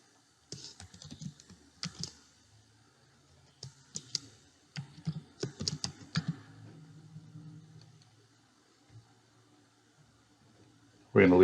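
A computer keyboard typed in short bursts of crisp, close key clicks with pauses between, ending in a louder thump.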